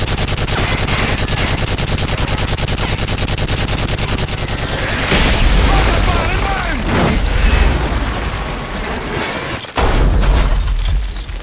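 Heavy gunfire and booming mortar blasts rage through a Call of Duty: Modern Warfare 3 firefight, a steady loud barrage of shots with deeper impacts bursting through midway, with shouted voices mixed in.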